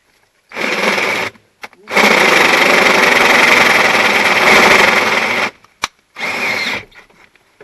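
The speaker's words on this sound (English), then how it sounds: "I'll just go eeny, meeny, miny, moe, and drill a hole." A power drill whirs loudly in several bursts drilling a 3/4 hole in a cracked compressor block, a short run, then a long sustained grind through material, then another short burst after a pause.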